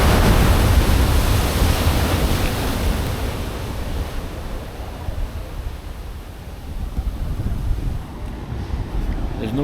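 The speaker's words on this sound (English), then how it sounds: "the tide is very high, plus the water is foaming and murky" Rough, high surf foaming along the Puerto Vallarta Malecon, a loud continuous roar of breaking waves mixed with wind buffeting the microphone, close and steady throughout.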